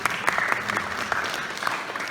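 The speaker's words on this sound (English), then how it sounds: "give him a lot of applause" An audience applauds steadily throughout, a dense crowd of clapping hands at moderate distance with no voices rising above it.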